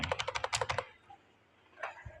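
Fast keystrokes tap on a computer keyboard in a quick run of clicks. After a pause comes one louder key press, close up and quiet, with no talking.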